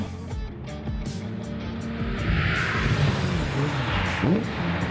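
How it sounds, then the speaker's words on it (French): A Ford GT40 engine idles steadily while warming up before a drive, a low rumbling drone that swells slightly midway, with some ticking and clattering on top and no talking. "on laisse tourner un tout petit peu la voiture avant de partir avec pour qu'il y ait déjà une légère montée en température"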